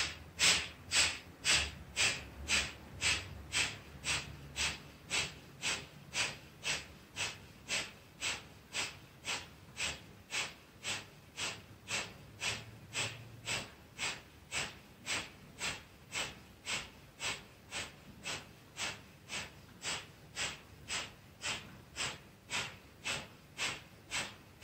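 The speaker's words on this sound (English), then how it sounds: "Go for half a minute, breath of fire" Breath of fire yoga breathing, a fast, even run of forceful nasal exhalations, about two per second, close and steady for the whole stretch.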